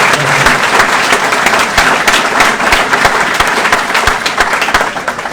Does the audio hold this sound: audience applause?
yes